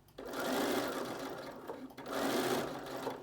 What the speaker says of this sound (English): When I stitch at the top of the pins, that stitching ends up just below the gathering stitches